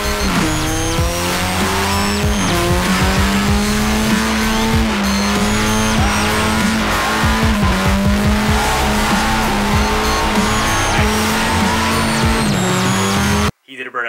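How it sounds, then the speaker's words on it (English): Mazda Miata held in a long burnout at an import car show, engine droning steadily at high revs while the tyres squeal continuously and loudly for the whole stretch, cutting off abruptly near the end; a voice talks faintly underneath. "This dude did the most professional burnout I've ever seen in my entire life."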